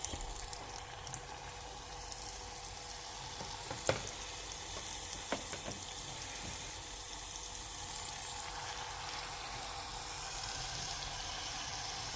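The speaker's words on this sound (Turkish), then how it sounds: "Kızartıyoruz." Steady, quiet sizzling of pieces of dough frying in hot oil, a soft continuous crackle with occasional pops, no voices.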